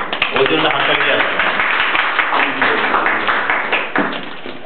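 An indoor audience at a Bengali community gathering breaks into sustained applause, with dense close clapping that holds steady and then fades slightly toward the end, with no talk over it.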